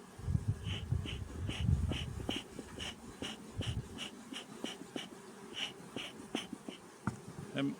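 Honey bees buzz steadily at an open hive being split in autumn, a close, continuous droning hum with irregular soft knocks and handling noises, and no talking.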